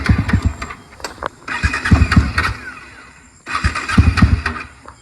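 A Mafia 250 motorbike engine rumbles and revs in uneven bursts, close and fairly loud, with a lull before it picks up again.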